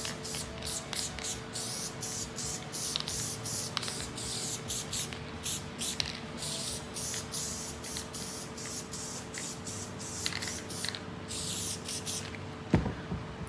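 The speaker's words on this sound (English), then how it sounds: "and spray, spray, spray." Rapid bursts of an aerosol spray hiss onto a car interior panel in a Cabriolet, close and loud, repeated in quick irregular pulses throughout.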